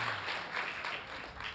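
An audience claps for actor Doug Jones at a Hocus Pocus fan panel, a steady, dense wash of applause from many hands, moderately distant and continuous throughout.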